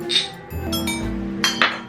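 Drinking glasses clink together in a toast among university students out drinking, with sharp bright chinks near the start and two more around the end, close and fairly loud.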